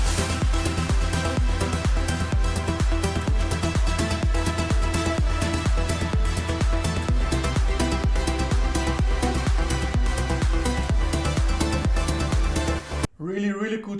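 A progressive trance track plays at full volume, with a driving steady kick beat, layered synths and a pulsing modulated texture, before it drops out near the end.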